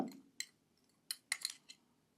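Herbal powders being stirred into oil, a utensil clinking faintly against a container in several light, scattered taps, quiet and close.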